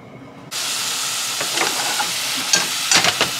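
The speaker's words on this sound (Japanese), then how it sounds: "ジューって言ってますね" Broccoli florets and thick stems frying in a pan over medium heat, a steady close sizzle bursting in at once and holding, with scattered crackles and pops as pieces shift, no voices.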